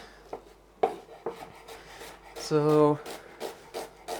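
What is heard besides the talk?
knife cutting onions on a board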